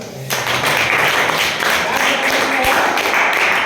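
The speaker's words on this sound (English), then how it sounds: "Clap for it." A class in an accounting lesson breaks into clapping: many hands beating together in a dense, steady burst that starts abruptly and holds at close range, fairly loud and without talk.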